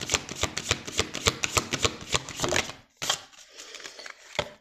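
Tarot cards are shuffled close up for a card reading, a quick run of crisp riffling flicks that gives way to a few softer, scattered slaps of cards, fairly quiet and with no talking.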